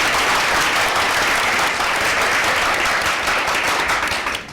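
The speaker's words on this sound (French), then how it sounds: "On applaudit pour Sandrine Konaté." Loud, sustained applause from a large crowd at a radio show taping, a dense wash of clapping that holds steady throughout before easing slightly at the very end.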